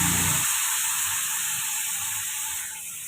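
Water splashed into a hot pan of fish and spices gives a loud, steady hiss that starts in a burst and then slowly settles and fades near the end, with no talking.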